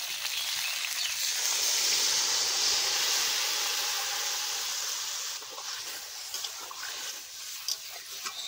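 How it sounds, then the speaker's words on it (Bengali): Reserved water from boiling vada poured into a hot pan of lightly fried vegetables, a loud rushing hiss for about five seconds that drops to a softer sizzle with scattered pops. "এই যে এখানে যে বড়া সিদ্ধ করা জলটা রেখেছিলাম সেই জলটাই আমি দিয়ে দিচ্ছি"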